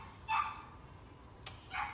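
Two dogs bark in the background indoors during a podcast recording, a few short, faint yaps spaced across a quiet moment with no talking.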